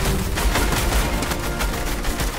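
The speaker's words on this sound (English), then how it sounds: "Sloane's still shooting at us." Dense, continuous gunfire from Sloane during the Fortnite Chapter 3 Season 2 live event, a steady loud barrage of rapid shots and booms with no talking.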